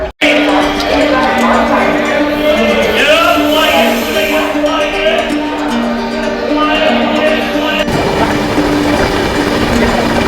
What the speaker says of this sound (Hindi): तो अभी मैं वडोदरा स्टेशन पहुंच गया हूँ।